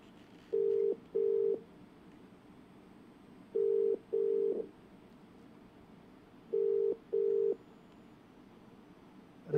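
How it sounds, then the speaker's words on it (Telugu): An outgoing phone call rings in the earpiece: three pairs of steady electronic tone bursts spaced a few seconds apart, clear and moderately loud over faint background hiss, with no talking. "ఆ ఫోన్ రింగ్ అవుతూ ఉంది."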